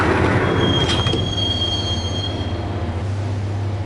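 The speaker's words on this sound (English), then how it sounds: "the train doors had already shut behind me, and I was in for the ride" Subway train ride in the Max Payne video game, with a rumbling carriage, a high sustained wheel squeal early on and a steady low drone continuing to the end.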